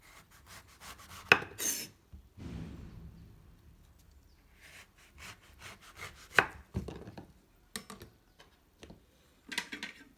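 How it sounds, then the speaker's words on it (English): A knife trims and halves an orange on a cutting board, giving sporadic firm thuds and short scraping cuts separated by quiet pauses, with no talking. "cut off the top and bottom, then cut the orange in half"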